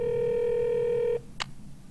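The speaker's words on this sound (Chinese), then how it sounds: "电话喺度响啊！" A telephone in a cartoon rings with a steady electronic tone for about a second, then cuts off and is followed by a single short click, with no voices.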